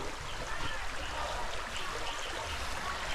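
River water flows steadily nearby as a continuous, even rush along a riverbank at a camping spot, with no voices over it.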